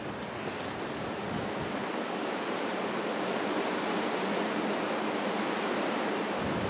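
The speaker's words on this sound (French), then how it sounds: "Toujours le vent. Toujours." Strong coastal wind in Tangier roars steadily and loudly against the microphone, a dense continuous rush with surf-like texture throughout and no voices.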